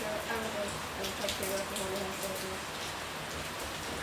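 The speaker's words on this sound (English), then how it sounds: "It's raining in our neck of the woods" Steady rain pours outside on a wet Easter evening, a dense, constant hiss of drops on surfaces filling the whole stretch, with faint tonal household sounds and indistinct voices underneath.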